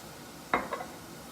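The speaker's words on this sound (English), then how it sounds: "So our stir frying is just about finished here." Beef and broccoli being stir-fried with Shaoxing rice wine and oyster sauce in a pan, a quiet sizzle under a sharp metallic scrape and clink of a utensil against the pan, two brief strikes with no talk.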